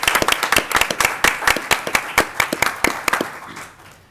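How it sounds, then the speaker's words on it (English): An audience at a school board meeting claps for retiring staff members, a modest group producing distinct, fairly close individual claps in an uneven rhythm that thins out toward the end. "If you could give them a round of applause,"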